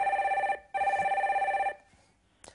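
A telephone rings with an incoming call, two loud trilling bursts separated by a short gap, followed by a brief click as the line connects.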